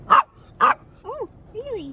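Puppies give two sharp, close barks followed by softer high whimpering yips, all within a couple of seconds in a quiet home.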